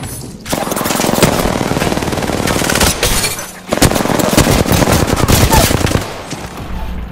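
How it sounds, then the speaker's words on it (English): Dense automatic gunfire from an Apex Legends match, loud rapid bursts running almost continuously with a brief pause near the middle, mixed with game effects. "Getting shot at."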